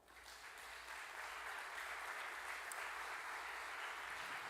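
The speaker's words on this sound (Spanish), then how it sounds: "Denle un aplauso al Señor." A church congregation claps continuously, steady and dense throughout, sounding like a full room of people applauding together without pause.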